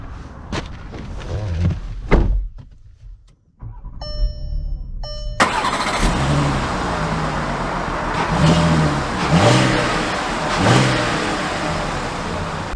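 A 2023 VW Atlas Cross Sport starts with a brief crank and catches, its engine rising into a steady idle and then revving in repeated surges as it pulls away, close and loud, with chimes sounding in between and no one speaking.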